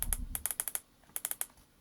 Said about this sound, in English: I'm going to go through all the function key.